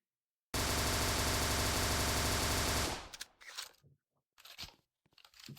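Rapid automatic gunfire from the fastest-firing weapon in an SCP video game, a dense, loud, continuous burst lasting over two seconds, followed by scattered fainter clanks and impacts.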